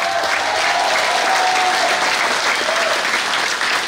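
A church congregation applauds and cheers loudly for Jesus, a dense, steady wash of clapping and crowd noise that holds evenly throughout with no pauses.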